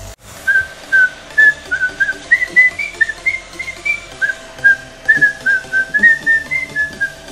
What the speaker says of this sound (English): Sorry, I need to stop whistling.